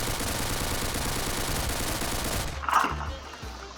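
Dense, rapid automatic SMG fire from Pixel Strike 3D, a loud continuous rattle for about two and a half seconds, then cutting off to a few scattered game clicks and thuds.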